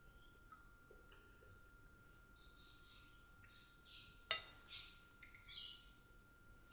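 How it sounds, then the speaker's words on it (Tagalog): Small birds chirp and squawk in short bursts against a quiet background, with a faint steady tone running underneath. "Yung mga ibon, nakarinig ninyo yung background? Kumakain pa yung iba."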